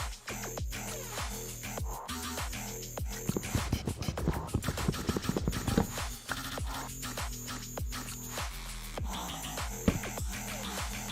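A Minecraft horse in the GT: New Horizons modpack clops and snorts in repeated hoof steps, with a denser flurry of clopping midway, heard over steady tonal game sounds.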